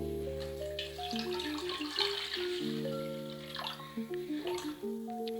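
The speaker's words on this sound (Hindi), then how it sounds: "अलसी के बीज के बाद उसमें आपने डाल देना है 1 कप पानी" A cup of water is poured into a pan of flaxseeds, giving a soft, continuous splashing trickle that sits under louder steady background music.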